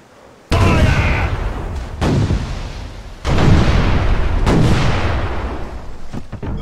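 Pirate ship cannons firing in the video game Mr Nobody, a boss fight at sea against a pirate captain: several loud booming blasts in quick succession, each with a long rumbling decay, no talking.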